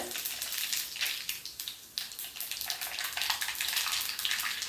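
Cumin and mustard seeds sizzle in a generous amount of hot oil, a steady bright crackling hiss with small pops, close and continuous throughout.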